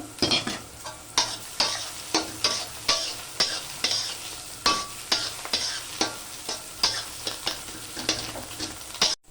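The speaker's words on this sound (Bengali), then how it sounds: "এখন আগে থেকে 4টা ডিম ভেজে রেখেছি, এগুলি দিয়ে দিব। এগুলি দিয়ে একটু ভাজা ভাজা করব।" Vegetables stir-fried in a pan with pre-fried eggs, the spatula scraping and tossing in a regular rhythm of about one stroke per half second over a constant sizzle, up close and without voices.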